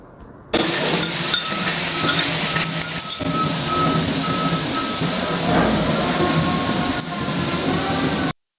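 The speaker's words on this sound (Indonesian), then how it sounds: "sekarang kita panaskan minyak goreng dan tumis semua bahan yang tadi diulek" Ground spice paste for Lombok-style Taliwang chicken sizzles in hot cooking oil, a steady loud hissing fry with crackling spits that starts abruptly and continues evenly before cutting off.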